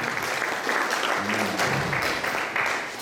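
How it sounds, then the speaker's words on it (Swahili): An audience at a church praise night in Kisii gives a short round of continuous clapping, fairly loud and even, with a faint voice surfacing briefly in the middle. "Mpigie makofi."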